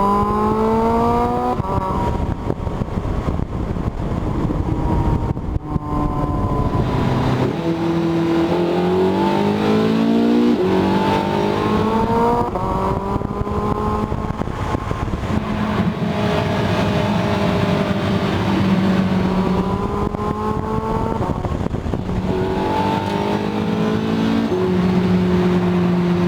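Porsche 918 supercar engine revving and accelerating through the gears, a loud, continuous roar with repeated rising pitch sweeps and shifts, close and alone without talk.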